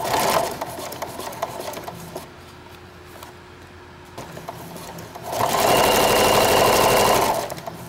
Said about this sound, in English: Okay, so we'll just stitch along,